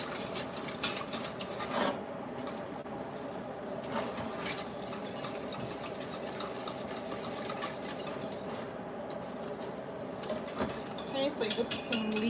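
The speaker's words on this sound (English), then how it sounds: "you just continue to stir" Dairy-free banana pudding stirred in a pot on the stove, a continuous scraping and clinking of utensil against metal repeating quickly and close, with a few birds calling faintly in the background.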